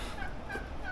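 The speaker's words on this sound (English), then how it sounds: "Oh, look, turkeys." Faint, distant turkeys gobbling a couple of times over a low background hum, on the Salkantay Trek hiking trail in Peru.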